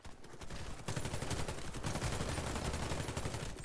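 Rapid automatic fire from a Galil rifle in Warface, a continuous close burst of shots that begins abruptly and keeps hammering evenly, though fairly quiet overall.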